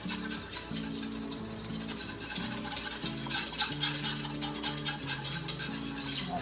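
A spoon works flour into melted butter in a pan, making a soft steady scraping stir with a light sizzle, quiet and close, while music plays underneath.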